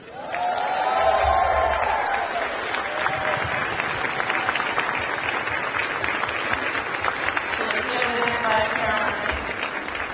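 An audience at a political event in Atlanta rises and applauds Ambassador Andy Young, with sustained applause and some cheering from a large room that swells early and holds steady for about ten seconds.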